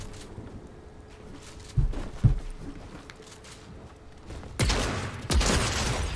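Gunfire in a Fortnite solo cash cup match, with scattered sharp shots and a couple of louder bursts over a low background rumble, no voices during the shooting.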